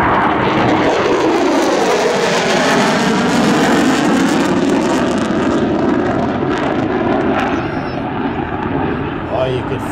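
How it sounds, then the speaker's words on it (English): B-1B Lancer bomber jet engines at full power during an air show demonstration, a loud continuous roar that sweeps in pitch as the aircraft passes, filling the whole clip. "you can feel the ground rumbling with the power of the B-1B"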